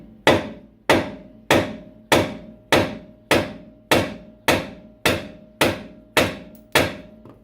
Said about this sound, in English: I'm going to just hit right here with a rubber mallet to separate the control arm here from this knuckle.